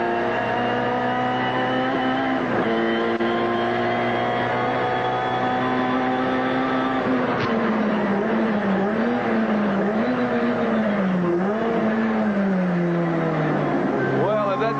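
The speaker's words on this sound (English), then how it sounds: "Engine really revving. You can hear the Sierra doing everything it can to bridge the gap." A Ford Sierra Group A race car engine revs hard and loud during a racing restart in Adelaide, its pitch rising and falling through gear changes under continuous commentary.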